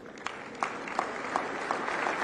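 Scattered audience applause at a government address, a few distinct claps rising over a soft bed of clapping, moderately faint and without talk.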